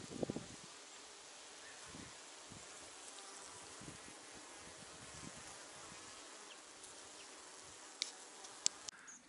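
Bees buzzing around a camp in the woods, a faint, steady insect drone with scattered rustles and a few sharp clicks near the end, no talk.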